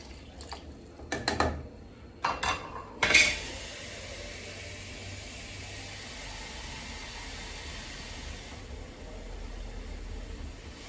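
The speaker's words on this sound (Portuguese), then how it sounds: "Agora nós vamos colocar toda a água nessa panela." A few clattering knocks, then water pours steadily into a pot for stock with a continuous hissing rush that carries on for several seconds.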